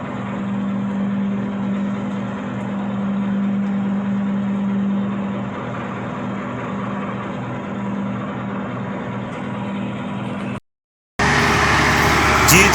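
A generator runs loudly and steadily at a bridge construction site, a constant engine drone with a low hum that cuts out briefly near the end before the noise returns.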